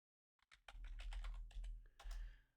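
Rapid typing on a computer keyboard, close and clear, a dense run of key clicks with a brief pause near the end before a final burst.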